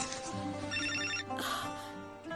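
A telephone rings indoors in a domestic drama scene, a short burst of repeated electronic ringing tones that sounds fairly quiet and somewhat muffled.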